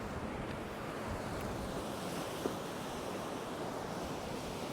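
Rough sea at Collywell Bay surges in a constant, low-level roar of waves and surf, heard faint and distant with wind rumbling across the microphone.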